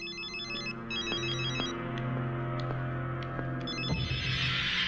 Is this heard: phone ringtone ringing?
yes